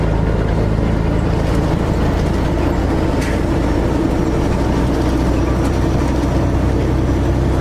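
A Freightliner truck with an 18-speed transmission rumbles loudly and steadily from inside the cab, a continuous low engine drone and road roar with no clear breaks while gears are shifted.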